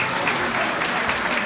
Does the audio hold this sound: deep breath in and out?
no